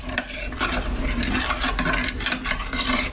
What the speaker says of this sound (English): you mix it together so there's no lumps